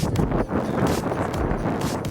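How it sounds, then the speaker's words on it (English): Strong wind buffeting the microphone in loud, rumbling gusts near the Golden Gate Bridge in San Francisco, with rustling noise throughout and no speech. "It's so windy."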